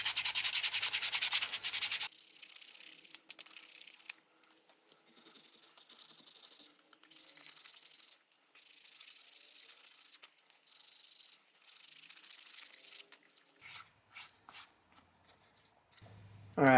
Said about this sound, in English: this is just 600 grit sandpaper, and I'm going to start just hand sanding this